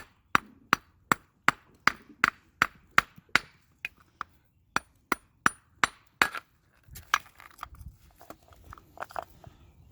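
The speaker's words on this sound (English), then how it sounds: "Need my hammer, my rock hammer." A rock hammer strikes rock at a creek in a quick series of sharp, ringing metallic taps, a brief pause, then more blows, followed by softer scraping and rustling handling sounds.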